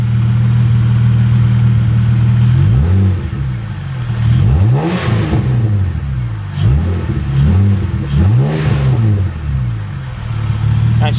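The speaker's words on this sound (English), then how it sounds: "And she crackles like a beast" A car with a custom exhaust idles loudly, then revs several times in short bursts, each rev rising and falling with crackling pops before dropping back to a steady rumbling idle.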